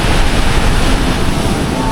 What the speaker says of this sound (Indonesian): harus hati-hati karena gelombangnya gede nih, teman-teman